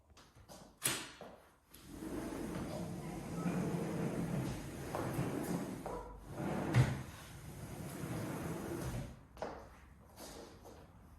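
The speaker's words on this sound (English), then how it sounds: "My first favorite thing is the 3-panel sliding glass door." A three-panel sliding glass door in a four-bedroom home's Augusta floor plan rolls and thumps a few times as it is slid open and shut, with soft room noise between the knocks and no talking.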